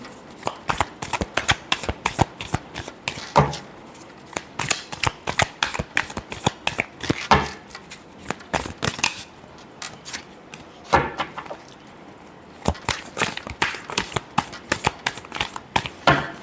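A deck of tarot cards is shuffled by hand, with rapid, crisp riffles and flicks repeated over and over, close and clear against a quiet room.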